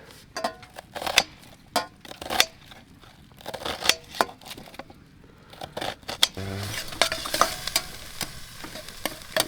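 Oil melts in a pan on a stove inside a hot tent in a snowy forest. Irregular sharp clicks and taps come first, then a denser, rising sizzle takes over, close up and with no speech.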